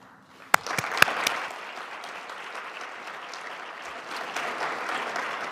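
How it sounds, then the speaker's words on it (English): Audience applause after remarks at a formal event, a steady broadband patter of many hands with a few sharp individual claps near the start, continuing evenly throughout. "I'd like to extend another round of thanks and applause"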